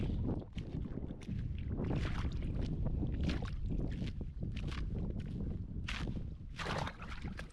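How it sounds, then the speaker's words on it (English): Thin ice on a frozen lake in Stockholm breaking as someone wades into the water, with repeated crunching cracks and sloshing splashes in an uneven rhythm, close and fairly loud against a windy background. "the further you go out, the harder it is to break the ice"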